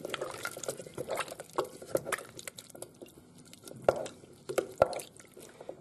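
Butternut squash soup stirred together with vegetable stock in a pot, soft wet sloshing and dripping sounds with a few sharper clinks, fairly quiet and close.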